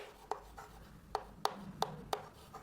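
Chalk or marker strokes on a classroom board during an English lesson: about six short, sharp taps and scratches spaced irregularly against a quiet room, close and fairly crisp.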